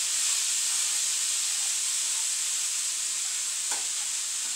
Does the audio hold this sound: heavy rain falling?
no